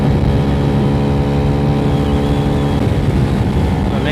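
Moped engine fitted with a Polini Df50sst variator, its belt still bedding in, drones loudly and steadily up close with a rough mid-pitched buzz and no break throughout.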